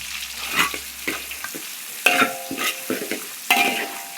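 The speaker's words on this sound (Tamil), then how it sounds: "கிண்டிக்குவோம், நல்லா கிண்டுவோம்." Onions fry in a pan, crackling under a spoon that is stirred through them in quick scraping strokes, a close, continuous sizzle with sharper clinks of the spoon against the pan.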